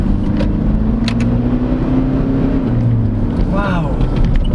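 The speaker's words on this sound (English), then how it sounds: "you can hear the diesel drone" A Toyota Fortuner LTD 4x2 diesel engine drones as the SUV accelerates, a steady low hum with a rising tone heard from inside the cabin, with brief voice-like sounds over it.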